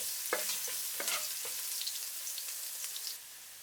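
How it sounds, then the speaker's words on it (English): Chopped garlic frying in hot oil left in a pan after cooking, for Cambodian stir-fried short noodles, sizzling steadily up close with a few scraping stirs near the start before the sizzle cuts off at the end. "Add the chopped garlic. Stir from time to time."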